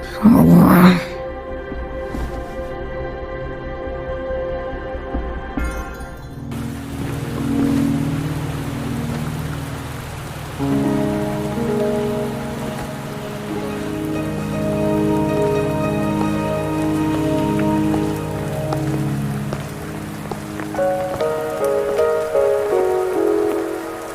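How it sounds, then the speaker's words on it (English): Rain falling in the video game Wuthering Waves, a steady hiss of rainfall running beneath sustained musical tones, with a loud sharp burst at the start. "Are you trapped here by the rain?"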